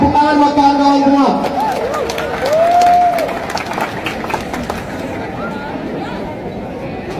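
Crowd applause and cheering at a student rally in Surabaya, clapping and chatter rising after an amplified voice and continuing as a loud, dense wash of hands and voices to the end.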